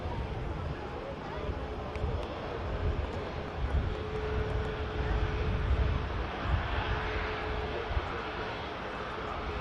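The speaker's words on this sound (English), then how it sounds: "But here's the EasyJet from Paris." An EasyJet airliner from Paris arrives at Manchester Airport, heard as a steady, distant rumbling engine roar under wind, with a voice talking partway through.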